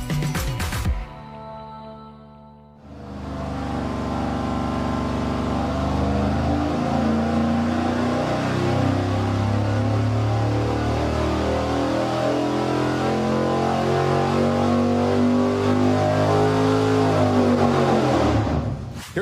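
A V8 engine on a dynamometer with a BBF intake manifold and a 950 HP 4150 carburetor revs hard, rising from a brief idle into a loud sustained pull that climbs steadily in pitch for about fifteen seconds before dropping off.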